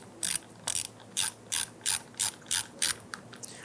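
A ratchet snugs down bolts on a 1999-2004 Jeep Grand Cherokee front power window regulator, eight crisp, evenly spaced clicking bursts up close, followed by a few softer clicks, with no one talking.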